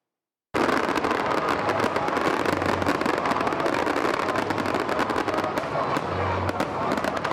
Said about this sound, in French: Les feux d'artifice ont ébloui le ciel au Palais de la Culture d'Abidjan-Treichville